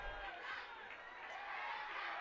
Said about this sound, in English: Crowd going electric.